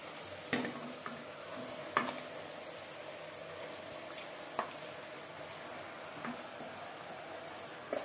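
Marinated mutton pieces go into a pan of softened onion and tomato, giving a faint, steady sizzle with a few sharp clicks and stirring knocks scattered across it.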